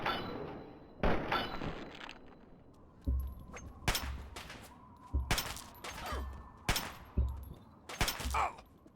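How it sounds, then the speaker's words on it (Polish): Gunshots in the video game Fallout 3, several sharp loud bangs at irregular intervals with heavy low thumps and brief ringing tails over a quiet background. "Jeszcze jeden strzał."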